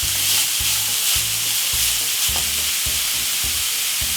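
Vegetables stir-frying in a hot pan for couscous, a bright continuous sizzle with regular scraping stirs about twice a second, close and loud, with no voices.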